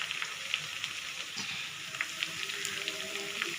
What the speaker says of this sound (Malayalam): നമ്മുടെ മീൻകറിക്ക് വേണ്ടിയിട്ടുള്ള ഗ്രേവിയെല്ലാം നന്നായി തിളച്ച് വരുന്നുണ്ട്